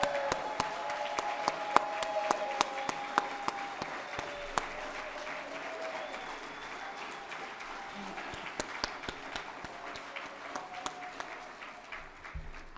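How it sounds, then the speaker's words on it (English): At a charity gala, an audience claps for staff and employees, with distinct individual claps standing out over a softer bed of applause that thins toward the end. "Why don't you stand so we can salute, clap for you."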